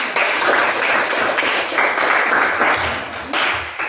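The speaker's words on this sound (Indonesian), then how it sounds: "Berikan aplaus untuk kelompok." A class applauds a group of students, a steady broadband patter of many hands clapping continuously at close range for several seconds, with no voices over it.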